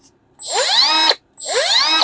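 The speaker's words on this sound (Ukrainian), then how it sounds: "Міні-болгарка Milwaukee Fuel." A 2023 Milwaukee Fuel cordless mini angle grinder triggered twice in quick succession. Each burst whines up to speed, holds for under a second and cuts off sharply, loud and close with no voices.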